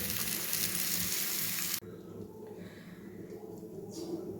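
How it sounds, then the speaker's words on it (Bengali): Potatoes frying in hot oil give a loud, dense sizzle that cuts off abruptly partway through, leaving a quieter kitchen background with faint sounds. "এখানে আলুটাও আমি ভেজে নিচ্ছি"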